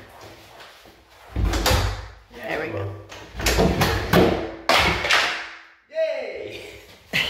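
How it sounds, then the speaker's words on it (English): A door is pushed and tugged shut with several heavy knocks and thuds, then a final close, while people talk nearby throughout. "Can the door shut though?"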